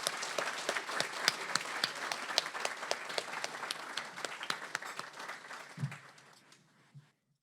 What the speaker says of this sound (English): So can we just do a round of applause again for everyone?